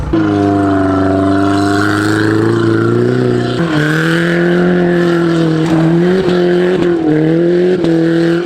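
A BMW E46 fitted with tractor tyres drives with its engine droning loudly and revving up and down in sustained pulls, with tyre scrubbing mixed in, close and continuous.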